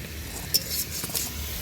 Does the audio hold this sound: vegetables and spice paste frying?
yes